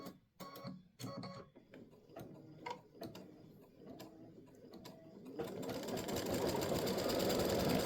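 An embroidery machine stitches free-standing lace bat earrings, starting with a few sharp, spaced needle ticks that quickly build into a dense, steady mechanical whir of rapid stitching, close and fairly loud, with no voices.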